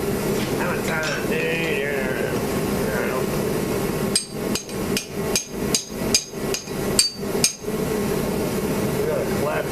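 About a dozen sharp metallic hammer strikes on a pipe ring out in a steady rhythm, preceded by a low hum and some faint voices.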